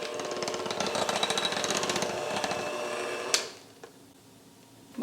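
An electric hand mixer whirs steadily through pound cake batter flavored with vanilla, a dense motorized buzz that runs loud for about three seconds before cutting off, leaving quiet room tone with a couple of faint clicks.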